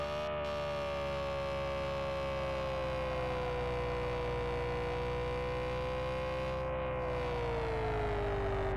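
A steady, wailing ambulance siren in a video game sounds alone and continuously, loud and sustained, with a slowly shifting tone over a low electrical hum.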